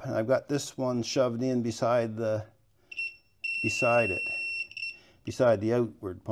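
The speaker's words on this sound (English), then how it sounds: "I got my continuity tester set up" A continuity tester checks the power window wiring of a 1965 Ford Thunderbird, sounding a high electronic tone for about two seconds in a gap between stretches of someone talking close by.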